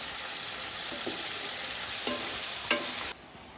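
Prawns and onions sizzle together in a frying pan, a steady close hiss with a few scraping stirs of the spatula spaced through it, before the sound suddenly drops away; no one speaks.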